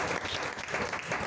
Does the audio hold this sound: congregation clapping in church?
yes